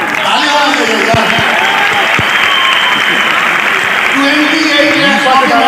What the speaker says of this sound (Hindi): ताली बजाइए यार